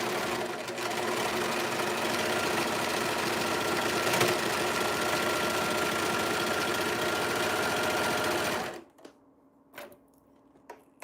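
A sewing machine stitches stretchy fabric for a gown or jumpsuit alteration, whirring loudly and steadily for several seconds before stopping and leaving a few soft clicks and handling noises.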